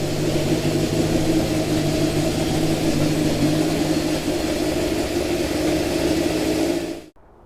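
An old Honda CB750 motorcycle engine, running lean with its carburetors being synced, idles steadily and loudly at close range with a rough, uneven putter and occasional popping, then cuts off abruptly at the end.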